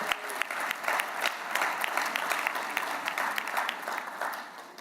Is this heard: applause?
yes